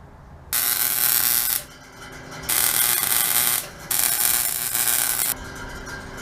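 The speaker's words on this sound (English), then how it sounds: "we're going to weld it right there." Welding on a blown microcar's body comes as three loud, close bursts of harsh, crackling buzz, each lasting about a second, separated by short quieter gaps.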